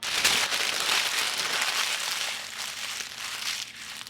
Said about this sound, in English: and then you crumple it up.